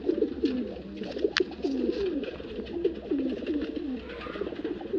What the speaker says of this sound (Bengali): এই একখানি মাদা পায়রা